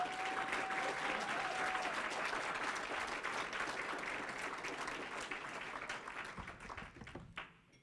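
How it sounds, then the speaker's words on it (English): Dense applause from a banquet audience at a scholar-athlete awards dinner, steady and full for about seven seconds before thinning out at the end. "So please give these guys a round of applause."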